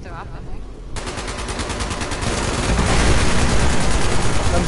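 Sustained automatic gunfire in a PS4 video game, a loud, continuous rapid rattle that starts abruptly about a second in and builds steadily louder.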